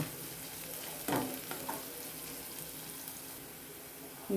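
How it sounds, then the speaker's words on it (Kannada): Ginger sizzles in a pan for a Gobi Manchurian recipe, a steady crackling fry with a couple of sharp clatters of stirring, heard alone at moderate loudness. "ಜಿಂಜರ್ ಹಾಕ್ಕೊಳ್ಳೋಣ ಸ್ವಲ್ಪ ಫ್ರೈ ಮಾಡ್ಕೊಳ್ಳೋಣ"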